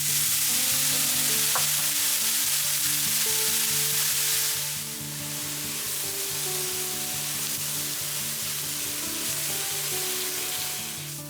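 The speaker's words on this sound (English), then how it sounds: "Mix in your tomato paste. And add a little bit of the tomato sauce." Rice and tomato paste sizzle and fry in a hot pan, a steady close crackle with soft stirring scrapes, no voices.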